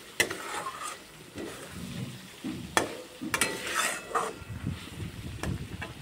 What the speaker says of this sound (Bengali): এবার আমি দিয়ে দেবো এর মধ্যে ভেজে রাখা আলুগুলোকে, আলু দিয়ে একটুখানি কষিয়ে নেব।